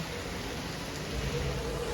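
Soft, steady hiss of light rain falling, an even wash of patter with no voices, constant in level throughout.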